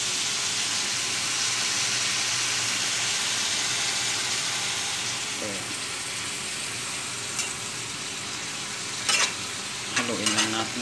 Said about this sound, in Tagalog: Haluin lang natin guys para dumikit yung toyo sa ating labong.